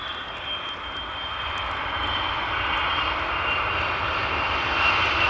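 Passenger airliner jet engines roar steadily at Amsterdam Schiphol Airport, a loud broadband rumble that builds slightly over several seconds as a plane passes nearby, with no talking.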